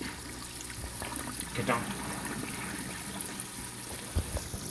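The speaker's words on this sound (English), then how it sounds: "Just siphoning out, tons of water coming through here" Water drains from a hydroponic grow bed through a bell siphon, a steady rushing trickle with gurgling bursts, moderately close. A voice speaks briefly over it.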